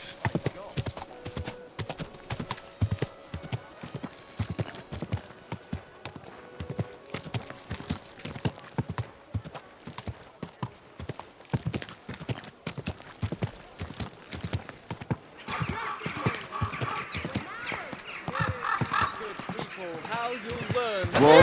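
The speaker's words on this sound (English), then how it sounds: "Easy, good horse." Steady horse hoofbeats clip-clop at a walking pace throughout in Kingdom Come: Deliverance II, with brief voices and ambient sounds joining toward the end.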